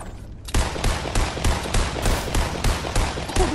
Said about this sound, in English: Oh, this man shot at me